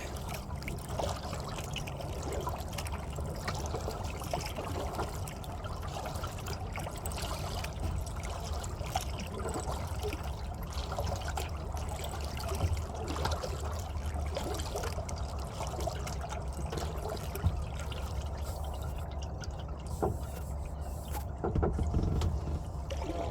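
Small boat paddled through shallow water near a MacGregor 26M sailboat, steady splashing and trickling strokes with low water noise throughout, fairly close, no talking.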